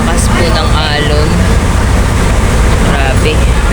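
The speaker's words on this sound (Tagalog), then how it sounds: "Sobrang lakas po ng alon." Boat pulling into Calapan Port in Mindoro, with strong wind roaring across the microphone and heavy waves surging as the vessel rocks, a constant loud rumble under a voice speaking.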